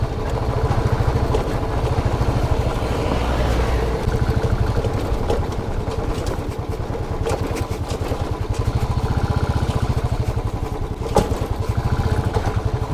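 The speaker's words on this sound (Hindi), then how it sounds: "बाइक भी ठल ठल मच रही है" A motorcycle ridden over a rough, dusty off-road track between Bani and Jammu, its engine droning steadily up close with a continuous rattling clatter throughout, no talk.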